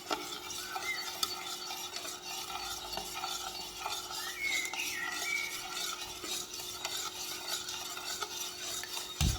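A bowl of yeast, sugar, salt and olive oil is mixed with a spoon, giving a continuous soft stirring and scraping close up, with faint clinks of utensil against the bowl.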